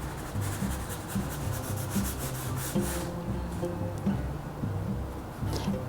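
Back-and-forth rubbing of sandpaper along the grain of an oiled wooden table, steady repeated strokes close up and moderately loud, with no talking.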